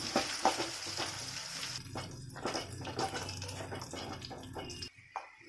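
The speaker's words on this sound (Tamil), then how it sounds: "இப்போ அரைச்சி வச்சா கொத்தமல்லி பேஸ்ட்டை சேர்த்து ஒரே ஒரு நிமிஷம் வதக்கினா போதும்" Coriander paste sautéed with softened onions in a hot pan for coriander rice, a steady close sizzle with repeated scraping stir strokes, and no voices.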